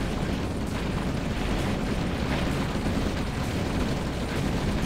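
Explosions as a big force of rocket soldiers destroys buildings in OpenRA, a real-time strategy game: a steady, loud wash of blasts and rumbling booms that continues throughout, with no talk.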